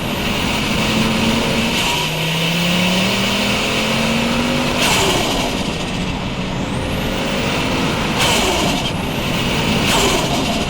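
Five-cylinder turbocharged engine of a 520 hp Ford Focus RS Mk2 rises and falls through the revs on the road, a loud, steady drone close by with several sharp gear-change breaks and no talk.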